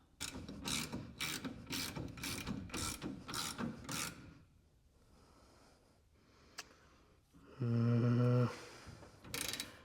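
A ratchet wrench tightens a bolt during an engine installation on a street-legal NASCAR-style car in a garage, giving a run of evenly spaced, close clicking bursts, then quieter fiddling and a short louder mechanical whirr near the end.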